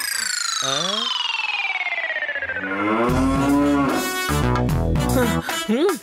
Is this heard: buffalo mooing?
yes